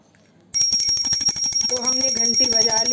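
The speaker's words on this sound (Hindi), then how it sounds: "तो हम घंटी बजाकर लगा देंगे भोग" A hand bell rung during a bhog food offering to Laddu Gopal, with rapid, steady, close-up metallic ringing that starts abruptly and continues throughout, while voices chant or talk over it in the second half.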